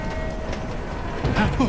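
A film scene of a train running on rails, a steady low rumble with faint rhythmic clatter and a swelling roar near the end, with a voice speaking over it.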